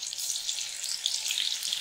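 Soya chunk pakoras sizzle and fry in hot oil, a steady, close, bright crackling hiss with no pauses or voices.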